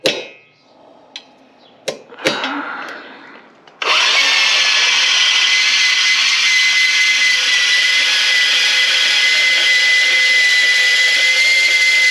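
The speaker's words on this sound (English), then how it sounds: "little sander's starting to come handy" A small sander starts up after a few scattered clanks and knocks during work on a car's port injector install, then runs as a loud, steady high whine to the end.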